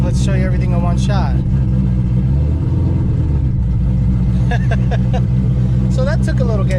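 Ford Shelby GT500 held on the trans brake in neutral, rolling backwards with a loud, steady engine rumble and a brief rev in the middle, while people talk over it.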